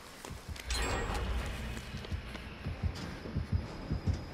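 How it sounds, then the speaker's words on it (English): A heavy, throbbing heartbeat from the horror game Dead by Daylight thumps in a quickening rhythm of low pulses, faint and muffled, rising in pace toward the end. "I could hear my heart beating and music going really fast"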